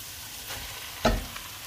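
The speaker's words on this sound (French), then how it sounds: "vous faites revenir un peu la tomate" Tomato paste frying in a pot for Algerian couscous boumfewer, a low steady sizzle throughout with one sharper spitting burst near the middle, no voices.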